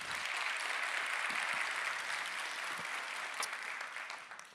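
Steady audience applause fills a conference hall, dense clapping sustained throughout before tapering slightly at the end, with no talk over it.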